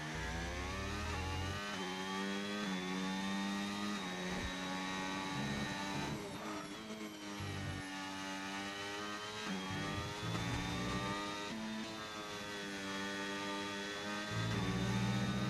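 A race car engine in a sim racing game at Austria, loud, high revving that climbs through gears, drops sharply under heavy braking and rises again on full throttle, repeating several times.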